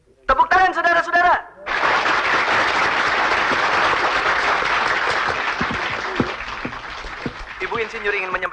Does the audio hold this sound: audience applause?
yes